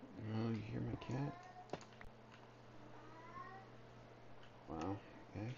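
A pet cat meows several times, sad drawn-out cries close by, with a person talking quietly between them.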